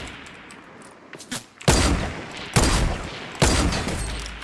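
Double-barrel shotgun fire in Fortnite Battle Royale: three heavy, booming blasts come roughly a second apart, after a few fainter shots.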